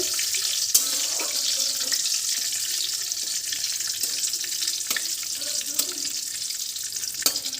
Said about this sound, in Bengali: এইগুলো যতক্ষণ একটু সুন্দর গন্ধ না বেরোয় ততক্ষণ একটু ভেজে নেব